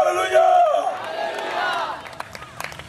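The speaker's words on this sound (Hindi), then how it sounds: "एक बार और जोरदार ताली" A church congregation at a Hindi-language revival gathering breaks into loud cheering and shouting, with one voice ringing out at first, then a swelling crowd roar that fades into scattered claps and whoops.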